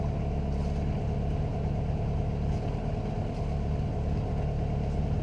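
A sailboat's motor runs at anchor off Salinas, Puerto Rico, a steady, close, low droning hum with no breaks or changes in pace.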